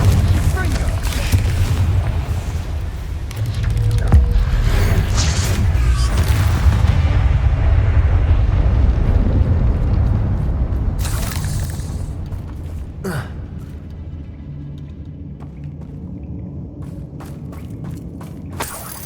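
Confringo spell explosions in the game Hogwarts Legacy boom repeatedly under a dense, rumbling game soundscape, loud and sustained before tapering off, with a few sharp bursts near the end.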